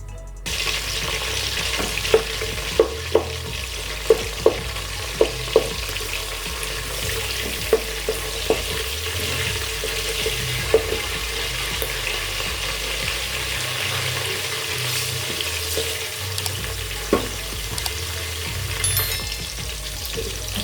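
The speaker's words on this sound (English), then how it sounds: "I'm going to wait for a little bit for the onion to fry" Onion frying in a pot for a garden eggs stew, a steady crackling sizzle that runs throughout, punctuated by a few sharp clinks and taps of a utensil, with no one speaking.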